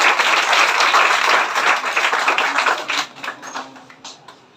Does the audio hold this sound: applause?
yes